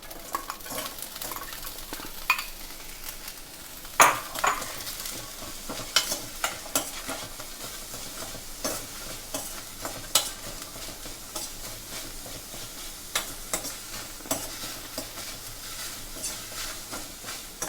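Onions, green chilies and ginger sauteing in a pan over a lowered flame, with a steady sizzle and frying crackle beneath repeated scraping stir strokes and occasional sharp spoon taps on the pan, close by and without talk.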